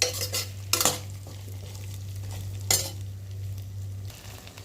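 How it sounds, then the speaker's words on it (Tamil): Small shallots fry in a pan for Tamil fish curry, a low steady sizzle under two sharp spoon scrapes against the pan, with a constant hum underneath and no talking. "நல்லா பெரட்டி விட்டு சின்ன வெங்காயம் வந்து நல்லா பொன்னிறமாக வர்ற வரைக்கும் நல்லா வதக்கி விட்டுக்கலாம்"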